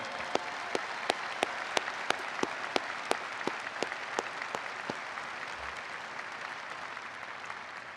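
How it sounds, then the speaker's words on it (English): Applause fills a college convocation ceremony for a graduate, with scattered close sharp claps standing out over a broad, even wash of crowd clapping that gradually thins toward the end. "How about one more round of applause for William Leroy Mercado?"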